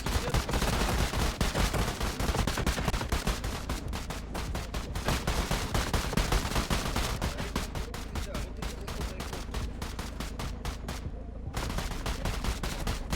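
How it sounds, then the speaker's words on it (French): Rapid bursts of gunfire ring out during a police patrol, shots fired through a wall in a gang confrontation; loud, dense volleys repeat almost continuously and close by, with a short lull near the end. "En plus, ça tire à travers le mur."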